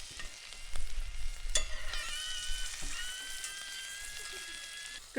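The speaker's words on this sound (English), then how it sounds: "The sausages are making sound." Sausages sizzle and crackle steadily in a hot pan, a continuous bright frying hiss with small pops throughout, close and moderately loud with no talk over it.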